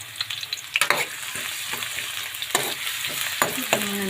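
Garlic frying in a pan while being stirred, with steady loud sizzling and repeated sharp scrapes and clinks of a utensil against the pan, close up and without talk.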